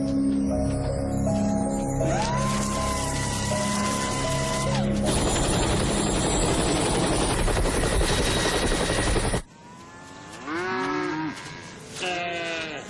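Helicopter rotors arrive to spray pesticide over fields ravaged by locusts, a loud steady throbbing roar that swells and fills the scene before cutting off, followed by fainter bleating livestock.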